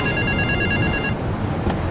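A telephone rings in the game GTA 3, a bright electronic ring tone that sounds clearly for about a second and then stops, leaving a low game background.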